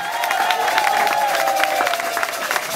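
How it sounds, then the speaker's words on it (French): A crowd applauds an honorable guest at the launch of a new radio station in Kikwit, with sustained clapping and cheering over a steady tonal hum or music bed. "Est-ce qu'on peut applaudir pour Honorable Joël Ibilaba?"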